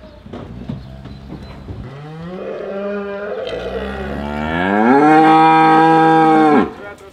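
Limousin cows on a farm: one close, loud, drawn-out moo that rises in pitch and swells before cutting off, preceded by fainter lowing and rustling.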